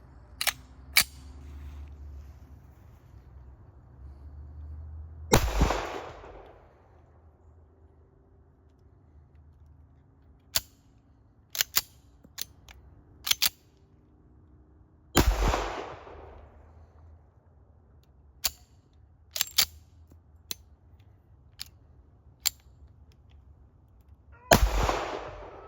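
A WWII-era 1943 Colt 1911A1 pistol fires outdoors: four loud, sharp reports with a short decaying tail, spaced several seconds apart. Scattered clicks and handling noises fall between them over a low background rumble.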